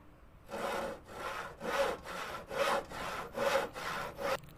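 Hand saw cutting through a wooden board for a table, about eight even rasping strokes in a steady rhythm, close and clear with no voices.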